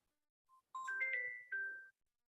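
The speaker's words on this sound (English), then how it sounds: "No, that was a phone ringing in his background." A phone rings faintly in the background, a short two-part electronic ringtone with a brief chirp before it, heard alone against silence.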